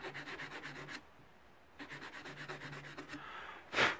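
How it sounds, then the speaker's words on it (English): A fine sanding sponge rubs over a resin whitetail deer antler casting in quick, close back-and-forth strokes, two bursts separated by a pause, ending with a brief louder scrape. "The fine sanding sponge will smooth it"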